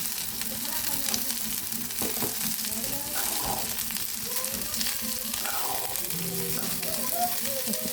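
Dill leaves being stir-fried in a pan give a steady, close sizzle and frying hiss throughout, with faint stirring scrapes and no talk.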